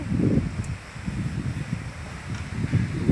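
Breeze blowing through a park buffets the microphone as a steady low rumble, with faint rustling and no talking.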